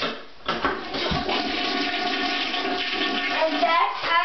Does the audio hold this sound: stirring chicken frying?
no